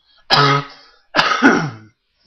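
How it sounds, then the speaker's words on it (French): Two short, harsh coughs separated by a brief pause, close and fairly loud, with a throaty rasp. "Désolé, vraiment désolé là, pour ma toux"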